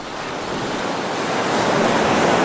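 Ocean surf rolls onto a beach in a steady, close roar of breaking waves mixed with wind rush, building slightly louder toward the end, with no talk.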